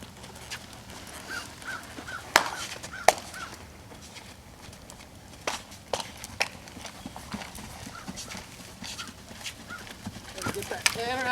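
Horse cantering on soft ground, hoofbeats thudding in an uneven rolling rhythm at moderate distance, with occasional sharper clops, while a person talks in the background.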